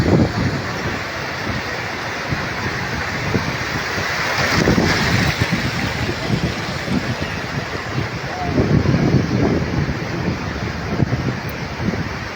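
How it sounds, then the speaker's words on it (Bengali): Sea waves wash steadily onto a shore in a continuous broadband roar, mixed with heavy wind buffeting the microphone, with surges swelling around the middle and again near the end. "কি সুমধুর একটি সাগরের ঢেউ।"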